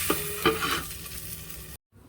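Hog plums (amra) fry in a covered pan for a chutney, giving a soft, steady sizzle with a couple of light knocks near the start, before the sound cuts out abruptly.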